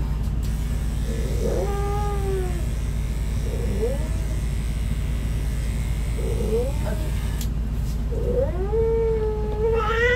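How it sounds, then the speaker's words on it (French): A very vocal, agitated cat meows and caterwauls loudly in four long, rising and falling wails spaced a couple of seconds apart, over a steady low hum. "C'est un chat qui est très verbal."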